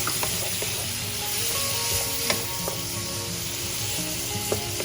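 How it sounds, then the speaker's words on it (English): Squeezed lemon juice hits hot idly upma in a pan, setting off a steady loud sizzle and crackle with small pops and stirring sounds throughout. "now to this I'm going to add the squeezed lemon juice"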